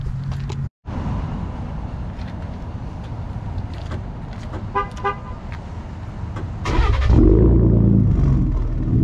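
A 2020 Ford Raptor with an aftermarket exhaust, recorded from the back of the truck while driving: a steady low rumble with a brief tonal toot midway, then the exhaust grows noticeably louder and deeper near the end.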